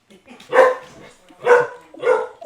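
Dog in Minecraft giving three loud, close barks, evenly spaced about a second apart, with no other sound between them.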